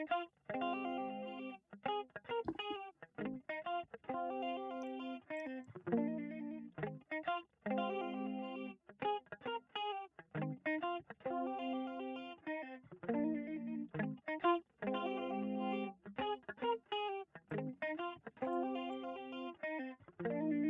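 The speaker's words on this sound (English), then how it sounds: "That is a chorus effect in Max for Live." Heavily chorused synth or instrument line built from four modulated delays at different rates, split two left and two right and cross-fed, in Max for Live, playing a steady rhythmic riff of shimmering, detuned chords throughout, no talk.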